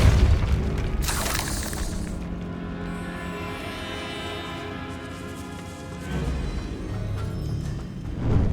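A Depulso spell cast in the video game Hogwarts Legacy: a sudden loud, broadband magical blast bursts out near the start, then fades into sustained tonal game music and ambience.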